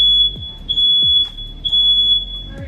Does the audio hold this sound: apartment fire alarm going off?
yes